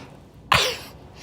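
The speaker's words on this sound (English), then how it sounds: "that was the first time I held a sneeze" One short, muffled burst of a held-in sneeze, close and sudden, with a quick airy release that fades within half a second in a quiet hotel room.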